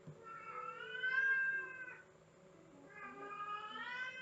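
A house cat meowing in two long, drawn-out, wailing calls with a pause between them, fairly faint and close, with no talk.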